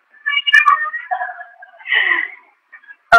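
A cat meows close by in several drawn-out, wavering calls over about three seconds, loud and clear with no talk over it.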